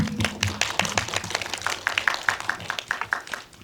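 Audience applause at a film talk event after a screening, a short run of crisp individual claps from a modest crowd, close and fairly loud, without speech over it.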